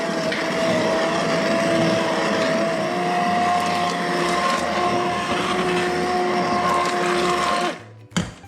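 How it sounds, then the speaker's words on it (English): An immersion blender purees tomato spaghetti sauce in a pot, a loud steady motor whine with shifting churning tones held for nearly eight seconds before it switches off with a short clunk. "So now we're going to puree it with our immersion blender."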